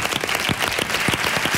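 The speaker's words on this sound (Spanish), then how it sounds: "Un aplauso para ti." Studio audience applause on a Spanish talent gala show, a short, loud burst of brisk clapping from a crowd, close and continuous, with faint voices mixed in.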